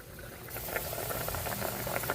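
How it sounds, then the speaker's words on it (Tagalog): Paksiw na isda, a Filipino fish stew, boiling in a pot: a steady close bubbling and popping patter that stays constant throughout, with no voices. "Tingnan ulit natin kung kumukulo na yung ating paksiw na isda."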